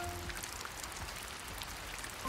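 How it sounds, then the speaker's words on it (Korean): Steady, soft patter of rain falling on a surface, a faint continuous hiss with scattered drops and no voices. "오랜만에 비 오니까 비 소리 좋잖아."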